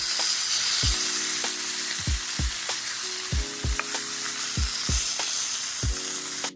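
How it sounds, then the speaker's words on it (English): Chili with tomato sauce and kidney beans in a frying pan, a steady loud sizzle throughout with a regular series of dull spoon knocks against the pan as it is stirred, no talk. "I'm going to go ahead and mix it until it's well combined."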